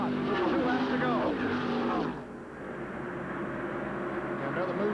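ARCA stock cars race at Michigan in 1990, engines droning loud and steady through a turn before the roar drops off, with a commentator talking over the noise throughout.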